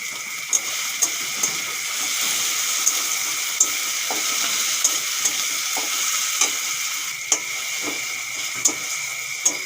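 Tomatoes with salt fry in a pan for a chicken curry, giving a steady moderate sizzle broken by regular small pops and crackles.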